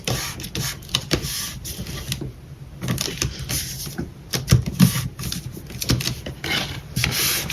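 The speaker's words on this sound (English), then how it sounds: "So I'm just gluing the flap down like this." Glued paper flap pressed down by hand on a cardboard lapbook, giving soft rubbing, pressing and tapping noises with a few firmer thumps, close and fairly steady throughout.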